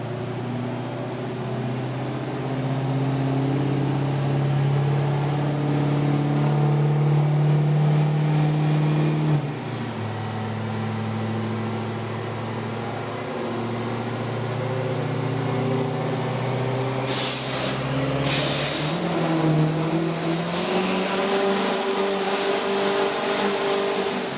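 A diesel truck with triple compound turbos revving hard on a dyno at a diesel power competition: a loud sustained engine roar with stepping pitch, then a rising high turbo whine near the end.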